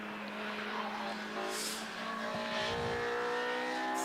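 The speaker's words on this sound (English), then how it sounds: "You can hear those Honda noises, I think, on your screens now." Honda race cars, including a K-Series-swapped entry, running at Donington Park during a racing championship, engines droning steadily with a car sweeping past mid-way and faint tire squeal, under a light voice.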